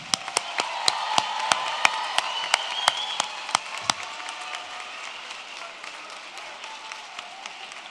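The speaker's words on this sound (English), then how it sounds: "join me in a round of applause for your family and friends who supported you" Steady applause from an audience at a school of education graduation ceremony, with a few loud sharp claps standing out early on before the clapping thins and fades.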